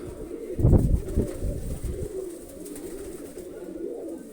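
Pigeons cooing and fluttering close by, a burst of low throaty sound early on that fades into softer murmuring.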